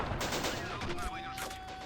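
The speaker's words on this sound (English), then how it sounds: "a really, really nice animation in the explosion" A silo blown up by a shot in a World War II strategy game: a short, sharp burst of explosive cracks and crackling debris, loud and close, with game effects ringing beneath.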